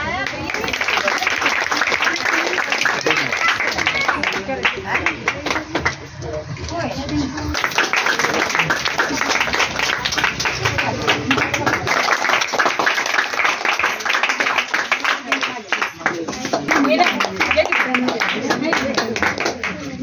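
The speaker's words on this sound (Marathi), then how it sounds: "टाळ्या" An audience applauds at a community Diwali event, continuous clapping lasting most of the time with a brief lull, voices and crowd chatter mixed in underneath.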